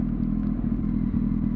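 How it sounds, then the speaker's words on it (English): A motorcycle engine idles close by with a rough, thumping burble and a slight swell, a short throttle-blip-like surge over about a second and a half. "I love that throttle blip, man"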